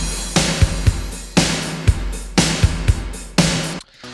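A drum track mixed with a more present kick drum from a song recreation plays loud and alone, a steady repeating pattern of punchy kicks under big snare hits roughly once per second.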